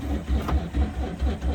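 The starter of a 1948 Willys Jeepster Overland cranks in a steady, rhythmic low chug of about five or six even pulses, close and moderately loud, without the engine catching.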